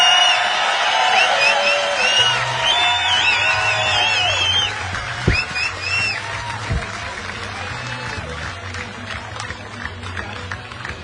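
Crowd cheering and applauding for the Final Four anglers at Toyota Trucks All-Star Week bass fishing event in Muskegon, steady loud clapping and whoops with a voice talking over it throughout.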